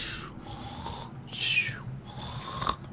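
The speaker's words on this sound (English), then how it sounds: "I'm going to stop the snoring sounds." Cartoonish snoring from a sleeping character in a Minecraft-style game, two drawn-out wheezing snores with a whistling rise between them over a low steady hum, fairly close and clear.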